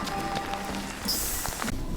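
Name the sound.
rain falling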